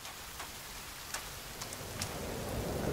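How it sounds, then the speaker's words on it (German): Steady, dense rain pours in the survival video game The Forest, a continuous broadband hiss of drops striking surfaces with occasional sharper splats, loud and even throughout with no voices. "Regen sieht schön aus."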